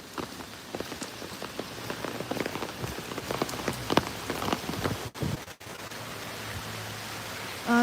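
Rain pattering steadily on a boardwalk by a platypus creek, a dense close hiss of drops with scattered sharper ticks, with no voices.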